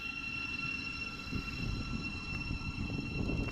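Class 700 electric multiple unit 700 043 running through Elstree & Borehamwood station on the Midland Main Line, a steady rumbling roll with a high electric whine held at constant level, no talk.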